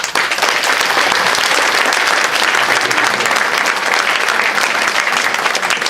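Vigorous, loud applause from a crowd at a political meeting, with women clapping hard, dense and unbroken for about six seconds.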